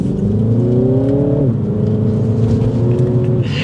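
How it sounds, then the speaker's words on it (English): Loud engine drone from inside a 2023 Mini Cooper S two-door hardtop, pitch rising then dropping sharply as it brakes hard and turns, followed by a steady lower hum with tire noise. "Now we're gonna hard brake, turn radius, look at this."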